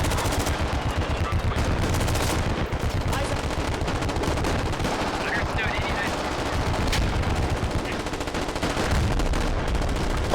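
Heavy machine gun fire from a DShK mixed with artillery in a military video game battle on an island outpost, a dense, continuous roar of rapid shots and booms with a voice talking over it.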